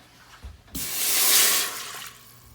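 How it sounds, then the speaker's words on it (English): Water gushes into an Instant Pot with a short bright pouring rush, loud at first and then tapering off, preceded by a couple of soft knocks. "So we want 3/4 cups of water. Go ahead and dump that in there."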